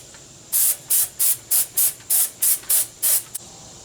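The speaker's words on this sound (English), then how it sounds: "Shake it up and let's spray." Ten short, sharp bursts from a dry shampoo aerosol can in a quick regular rhythm, loud and close, with brief pauses between each hiss.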